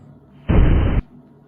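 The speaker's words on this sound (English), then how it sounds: "What an explosion." Atomic bomb explosion sound effect: a single loud, abrupt blast lasting about half a second, dense and booming, then cut off to quiet.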